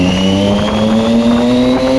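A motorcycle engine revving hard beneath the Hadapsar bridge, its loud, steady rising drone ringing and echoing off the concrete overhead, with no talk over it.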